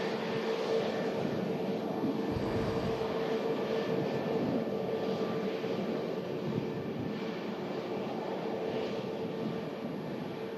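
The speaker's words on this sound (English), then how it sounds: "British Airways A320 Neo, Tango November Delta on the reg. Arriving from London Heathrow, just a 34-minute flight." A British Airways Airbus A320neo arriving at Manchester Airport from London Heathrow, a steady distant jet roar that holds evenly throughout without a clear rise or fade.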